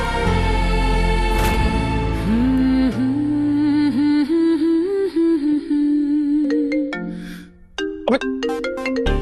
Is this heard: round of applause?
no